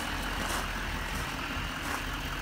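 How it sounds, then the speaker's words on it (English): A white 2015 Chevrolet 2500 HD Duramax diesel 4x4 pickup idles nearby, giving a steady, broadband rumble with no pauses. "You can hear this truck running in the background."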